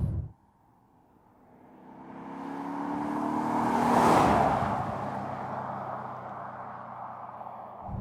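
Maserati GranSport with a 4.2-litre cross-plane V8 revs up to a loud peak and holds a strong, steady engine roar through the rest of the run.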